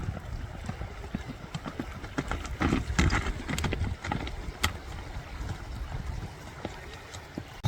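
Hooves of a horse being ridden outdoors clip-clopping in an uneven series of thuds and knocks, fairly close, with wind buffeting the microphone and no talk.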